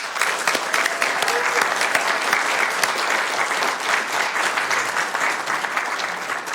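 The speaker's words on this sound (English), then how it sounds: "So a round of applause, everybody, for him." People at a Sacramento City Council meeting applaud a retiring city employee, a dense, sustained wall of clapping that holds steady at close range for several seconds, with faint voices underneath.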